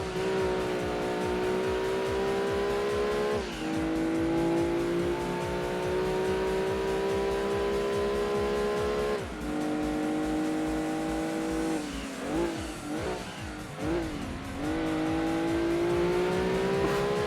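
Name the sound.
race car engine and braking in video game Gran Turismo 2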